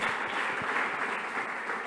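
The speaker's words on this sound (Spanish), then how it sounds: "Denle un aplauso al Señor." A church congregation applauds, a dense, steady wash of many hands clapping together, fairly loud and sustained throughout with no speech over it.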